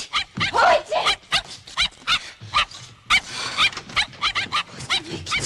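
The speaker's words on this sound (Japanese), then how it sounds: "わかんない、吠えるのよ。" A dog barks repeatedly in a hospital room, sharp close yaps and whimpers in an irregular rhythm, with voices talking over and between them.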